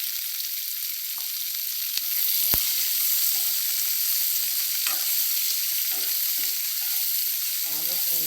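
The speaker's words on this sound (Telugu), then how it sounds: "కొంచెం ఉల్లిపాయలు బాగా ఫ్రై అవుతాయి," Sliced onions with a little salt fry in a pan, giving a constant close sizzling hiss with a few soft clicks and stirring scrapes, bubbling more near the end.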